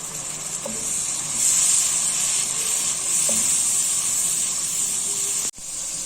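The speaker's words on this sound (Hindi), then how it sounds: "अब इसमें 1/2 कप पानी शामिल हो रहा है" Spiced tomato masala sizzling in a pan as half a cup of water is poured in, a loud steady hiss of frying and steam with faint stirring clinks, ending in a sharp cutoff.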